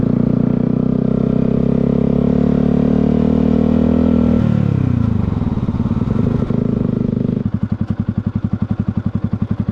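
A Yamaha R-125 motorcycle engine buzzes loudly up close, its pitch dropping as it slows, then settling into a rapid, popping putter at idle.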